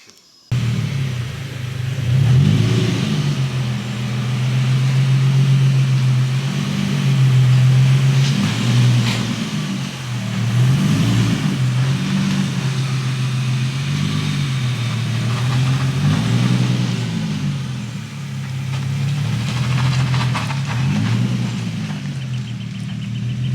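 Nissan 350Z with a welded differential on a test drive, its engine rumbling loudly and steadily throughout, rising and falling in pitch with repeated revving and acceleration, close up with no voices.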